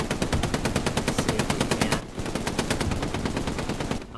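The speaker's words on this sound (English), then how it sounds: "we have Will Scott up here with the MG" Machine gun fire from the Hell Let Loose video game: two sustained, loud bursts of rapid, evenly spaced shots, the first about two seconds long, a brief pause, then a second long burst, with no voices.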